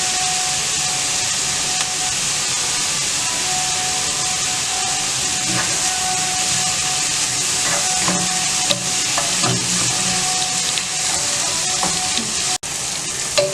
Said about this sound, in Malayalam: സവാളയൊക്കെ നല്ലതായിട്ട് വഴന്ന് തുടങ്ങിയിട്ടുണ്ട്.